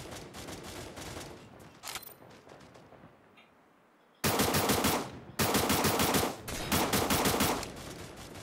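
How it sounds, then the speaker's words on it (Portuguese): Automatic gunfire in the shooter game Cyber Hunter, loud rapid bursts of machine-gun fire with short gaps, the longest volley in the second half. "Deram tiro aqui, mano, atrás de mim."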